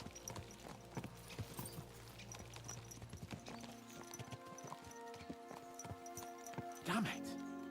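Horse hooves clip-clop rhythmically in Kingdom Come: Deliverance 2, a steady quiet trot under voices speaking, followed by a short horse whinny near the end.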